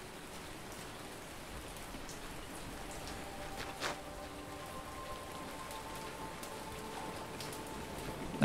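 Soft, steady rainfall in a video game hissing continuously at low volume, with a brief faint knock near the middle.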